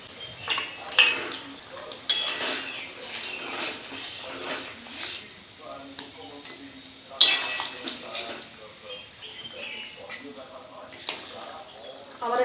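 Fried fish being added to a pot of mustard gravy and stirred, with clinks of a utensil against the pot, soft scraping and low sizzling in bursts of varying loudness.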